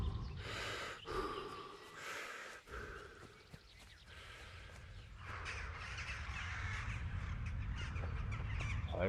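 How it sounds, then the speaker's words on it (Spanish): Crows cawing in the medieval world of the game Kingdom Come Deliverance, several harsh, raspy calls in quick succession at the start, then fading into a steady ambient outdoor bed with no speech. "Joder, con los pájaros."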